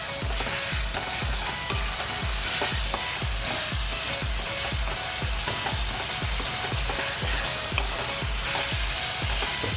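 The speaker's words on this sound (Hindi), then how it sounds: "फ्लेम को करते थोड़ा हाई और अच्छे से इनको 4 मिनट के लिए पका लेते हैं।" Vegetables for a Bengali-style moong dal khichdi cook in a pan over a high flame, a dense continuous sizzle with a steady rhythmic pulse of stirring running throughout, close and loud.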